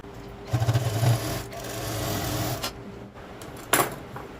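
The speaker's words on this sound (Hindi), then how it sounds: "यहाँ पर ऊपर की साइड में सिलाई लगाएंगे और दूसरे शोल्डर पर भी आपको ऐसे ही सिलाई लगानी है" Sewing machine stitching the shoulder seam of a short kurti: a close mechanical whirr running in short bursts with brief pauses between them and no talk.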